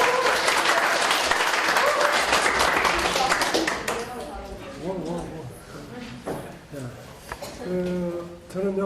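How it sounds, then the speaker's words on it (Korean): A lecture audience at Woosong University bursts into loud applause that gradually fades, followed by someone speaking to the room. "다시 한번 박수로"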